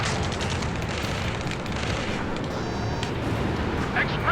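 Rocket explosions in Ace Combat 7's Rescue mission, heavy booming blasts rolling over one another amid ongoing gunfire in a loud, chaotic battle.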